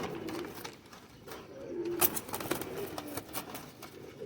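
Soft pigeon cooing, low and throaty, repeating a few times over light background noise.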